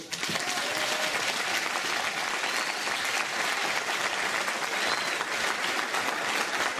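Sustained applause from an audience at a ceremony in Palmanova honouring volunteer polenta makers, dense steady clapping filling the whole stretch at even loudness with no voice over it.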